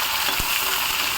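Garlic and onions sauté in oil in a kadai, giving a steady, close frying hiss with a brief soft knock from a spoon.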